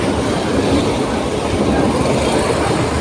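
An LRT train rumbles overhead on an elevated track, a steady, loud, continuous roar with a faint clickety-clack of wheels, heard from underneath with no talk.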